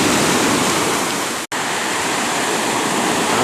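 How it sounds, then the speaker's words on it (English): Big ocean waves roll in right up to the shore on Hawaii's North Shore, a loud continuous rushing roar of surf filling the air, broken once by a brief cut to silence. "There the waves come in, pretty big. It's right up next to the shore."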